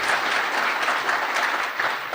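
The audience at a DEF CON security conference talk claps in a brief, dense round of applause, steady and fairly loud with no pauses.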